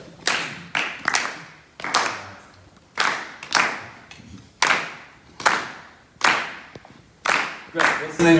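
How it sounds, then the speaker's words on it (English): A group claps a clave rhythm together in unison during a rhythm clinic, sharp clustered claps repeating in a regular syncopated pattern, close and crisp with short gaps between phrases. "Let's clap it together."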